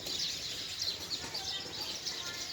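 Sparrows chirp in a village tree, a busy overlapping twitter of high, quick calls going on steadily from start to end, moderately close and unbroken by talk.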